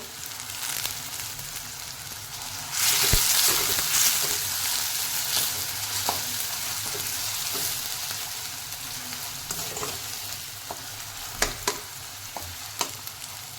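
Onion and tomato sauté in a pan with steady sizzling that swells louder a few seconds in, broken by spoon scrapes and a few sharp clinks near the end.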